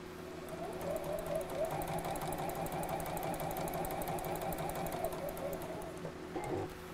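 A sewing machine stitches fabric down to a seam while making a biscornu pin cushion, its motor giving a steady, close whirring hum for about six seconds before it stops.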